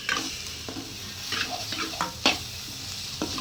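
Onions fry in a pan while being stirred, producing a gentle sizzle punctuated by sharp, irregular scrapes and clinks of a spoon against the pan, close and fairly quiet with no speech.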